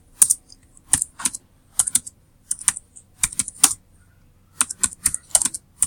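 Fingers type on a computer keyboard in quick bursts of crisp key clicks separated by short pauses, close and clear with no talking.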